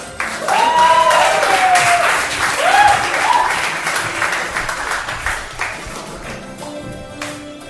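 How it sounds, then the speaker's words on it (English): An audience breaks into a round of applause at a music masterclass, with loud cheering whoops early on over the clapping, then the clapping thins and fades toward the end. "Round of applause, please."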